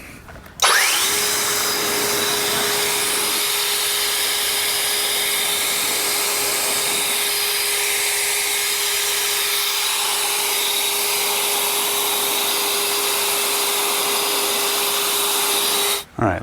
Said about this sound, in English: And blow dry this thing off.